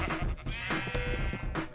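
Sheep bleat in the video game Minecraft, with a couple of close, clear bleats over steady game background sound.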